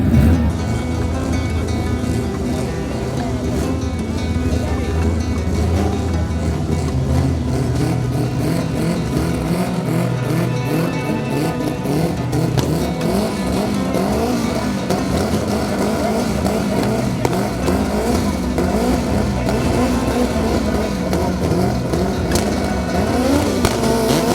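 Two all-motor four-cylinder race cars launch side by side in a Jamaican drag race grudge match, engines revving hard and loud in a continuous, dense roar close by, with no talk over it.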